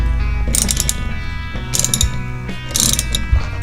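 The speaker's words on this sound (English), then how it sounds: "After you get all 4 of the bolts out of the flange of the drive shaft that goes into the transmission" Ratchet clicking in bursts while driveshaft flange bolts are removed on a 2011-2014 Ford Mustang GT, three rapid high clatters over a steady low mechanical hum, close and fairly loud.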